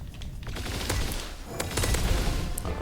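Pump-action shotgun fire in a video game duel sounds as a loud, dense volley of sharp blasts and booms, rapid and overlapping, with a crackling rumble throughout.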